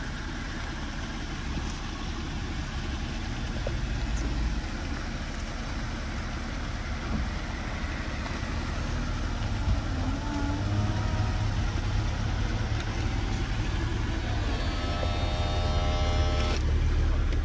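A 2006 BMW Z4 E85 2.5i convertible with its engine idling steadily while the soft top operates; a motor whine with rising tones comes in near the end.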